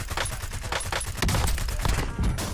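Gunfire in an online video game, with dense crackling bursts of shots and a heavier low boom partway through, loud and continuous across the moment someone is sniped.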